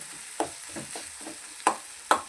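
A spoon mashes onion-tomato puree in a pan for palak paneer, with soft scraping and sizzling punctuated by three sharp taps against the pan.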